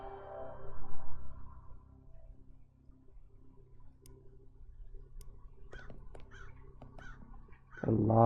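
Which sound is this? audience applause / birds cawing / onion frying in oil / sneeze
birds cawing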